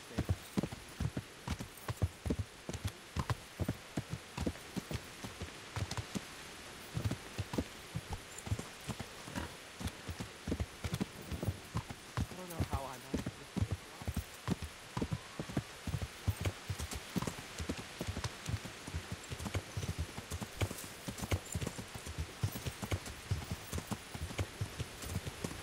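Horses' hooves clip-clop in the video game Kingdom Come: Deliverance, a quick, steady rhythm of hoof strikes running the whole time at moderate volume, with no speech.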